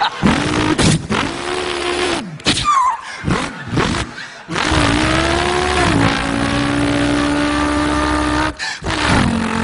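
A human voice imitates a revving V8 car engine, with repeated throaty roars, rising revs and sustained high-pitched drones, loud and close, broken by short pauses.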